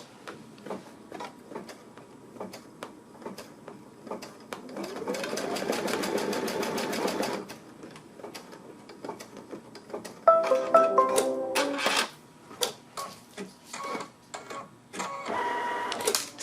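A sewing machine runs a steady burst of top stitching through layered ribbon, then pauses before a second run of bottom stitching with clicks and handling noises between, close and moderately loud.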